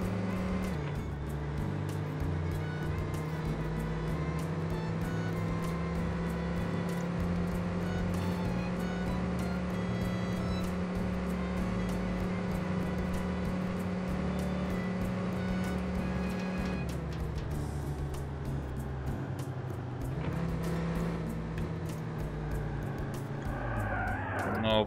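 Simulated Austin Healey 3000 MkII engine from the racing game TORCS, a steady droning note held for a long stretch, then dropping and rising again with gear changes near the end, loud and continuous.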